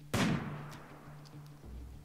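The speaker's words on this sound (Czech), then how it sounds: "Jenom pár výstřelů zkusíme." Gunshots in the video game RimWorld, one sharp, loud report followed by a decaying tail and a lighter thump near the end, heard alone with no talk.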